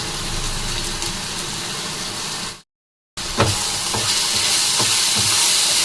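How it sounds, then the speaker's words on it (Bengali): Moong dal spices with turmeric and a little sugar sizzle and get stirred in a hot pan, a steady loud frying hiss broken by a brief silence, then resuming with spoon scrapes and clinks. "এগুলোকে কষিয়ে নেব, ভালো করে মিশিয়ে সুন্দরভাবে কষিয়ে নিতে হবে।"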